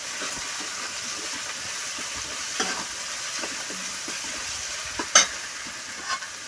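Tomatoes are added to a frying pan and stirred, producing a steady close sizzle with scraping stir strokes and a couple of sharper clanks near the end.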